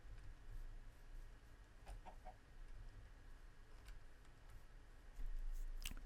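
Chickens cluck softly in Minecraft, with scattered short, faint clucks over a steady low background hum.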